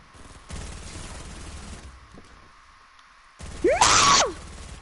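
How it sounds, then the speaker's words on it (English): Grenade launcher fire in Fortnite, a loud rapid burst of gunfire-like blasts followed by a quieter stretch, then a sharp whooshing explosion with rising and falling tones. "Shooting grenades!"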